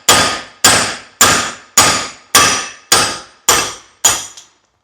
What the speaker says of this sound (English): if we take this over to the vise, I can hammer that probably right out of there